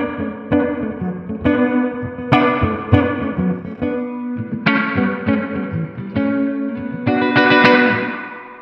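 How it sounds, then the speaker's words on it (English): Electric guitar phrases played through a spring reverb, each note ringing out with a splashy, lingering tail; loud and close, no voices. "It's a really, really nice sounding reverb, as you can hear."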